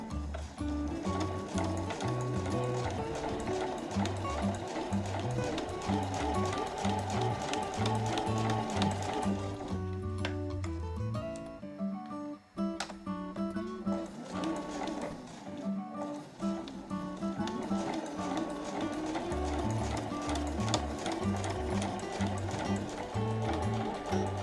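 A domestic sewing machine with an overlock-style presser foot stitches the final edge of an A4 flat tote bag, a steady rhythmic chugging beneath loud background music with a brief pause partway through.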